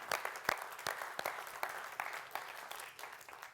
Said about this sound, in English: please, a round of applause for our judges with us today